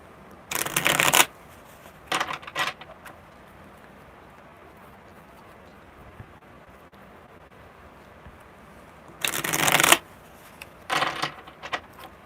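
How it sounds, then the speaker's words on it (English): Playing cards being shuffled in two bursts about eight seconds apart, each a quick riffle followed by shorter flicks, close and crisp over a quiet room with no talking. "Hey, they're shuffling really good."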